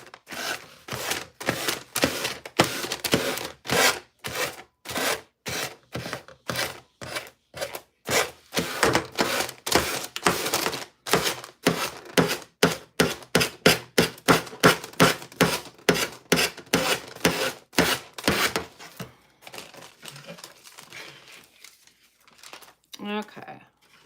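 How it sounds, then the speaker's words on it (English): Painted furniture being sanded by hand to strip the paint, heard as a long run of quick, evenly spaced rasping strokes up close, loud and steady, easing off near the end. "let's sand this off."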